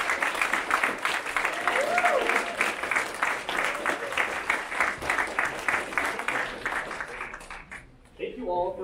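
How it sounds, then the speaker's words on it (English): An audience at a high school Honor Society fall induction ceremony gives a sustained round of applause from many hands. It holds steady for about eight seconds before tapering off, with a faint murmur of voices underneath. "please join me once again in applauding all of those new to Honor Society this year"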